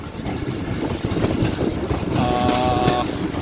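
A train rolls slowly through Golra railway station on a Taxila to Rawalpindi run, a steady rumbling clatter with brief whistling tones near the end, close and continuous.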